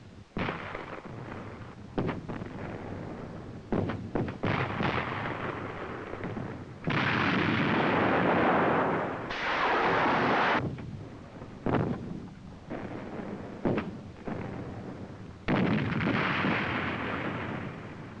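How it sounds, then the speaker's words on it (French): Artillery fire in a 1972 Swiss Army infantry combat film, heavy booming blasts and rolling explosions, some in quick bursts and some sustained, loud and close, with no talk. "Je suis sous le feu de l'artillerie."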